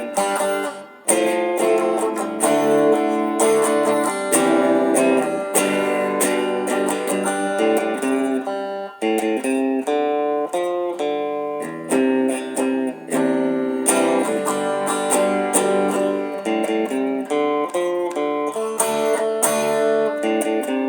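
An electric guitar plays the chorus of a song: full, ringing, slightly distorted chords strummed continuously and loudly for about twenty seconds, with no talking.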